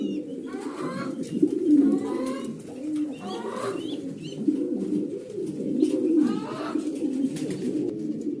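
Grizzle Beauty Homer pigeons in a loft giving soft, repeated rolling coos that overlap one another, close and fairly loud, with faint chirps above them.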